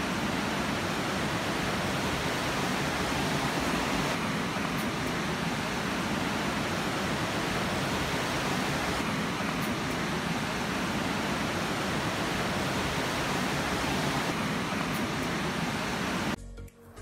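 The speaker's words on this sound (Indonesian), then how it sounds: "sungai kecil di belakang kamar itu lagi deres banget" Small river behind a hotel room in Puncak, running hard in the December rainy season: a loud, steady, broadband rush of water that continues unbroken for the whole stretch before cutting off at the end.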